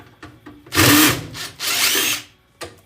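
A power drill removes screws from an old desktop PC tower, running in two close, loud bursts of roughly a second each with brief quieter handling noises around them.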